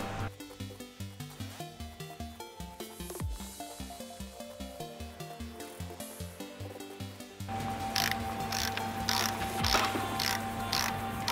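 A ratchet clicks rapidly and rhythmically while loosening the camshaft gear bolts on a BMW M47/M57 diesel engine, a close, steady train of metallic pawl clicks that grows busier and brighter toward the end.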